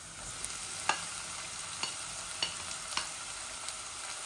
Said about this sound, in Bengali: এখন আমি পেঁয়াজ দিলাই।